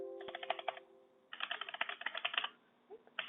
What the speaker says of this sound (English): we want to type in Python and then the name of the script